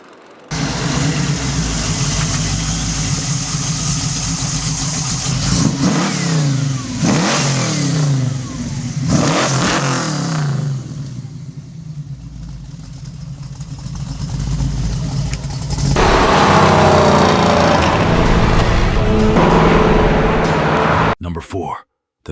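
A late-1960s muscle car V8 revs hard in repeated loud bursts and then holds a strong roar, with talk over parts of it.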